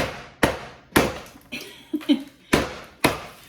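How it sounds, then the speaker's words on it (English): Packaged bite-sized Heath candy bars are whacked to crush them, giving about seven sharp, hard thumps at roughly half-second intervals with a short crinkle of the wrapper between them. "I'm just gonna leave them in their package, give them a few whacks"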